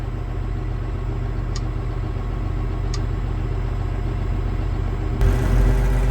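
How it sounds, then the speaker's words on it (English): A John Deere 4455 tractor engine idles steadily from inside the cab, a loud continuous low rumble with a couple of faint high ticks and a brief rise in engine noise near the end. "we'll choose the tractor that we're in, the Deere 4455"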